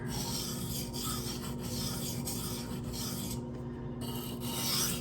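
A Protech TR-3 knife with a Magnacut blade is drawn across a sharpening stone in a quick run of even rasping strokes, close and steady, with a brief gap near the end.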